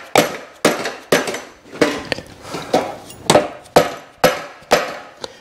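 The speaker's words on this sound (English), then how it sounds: "Sometimes you just need a bigger hammer." Heavy hammer blows ring against the exhaust header of a 1965 Honda CB450 K0 motorcycle, about a dozen sharp clanging strikes in a steady rhythm, close and loud.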